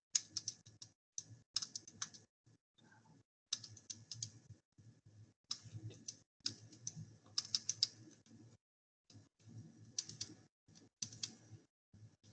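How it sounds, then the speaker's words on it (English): Rapid bursts of button presses as numbers are keyed into a calculator, close and clear, in short clustered runs separated by brief pauses. "I'm going to type this in my calculator and see if just doing one decimal place would work"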